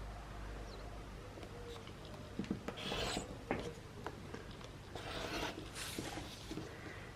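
Fabric pieces for an improv quilt block being cut, giving soft rasping, rubbing strokes in short irregular bursts, close and quiet, with no voices.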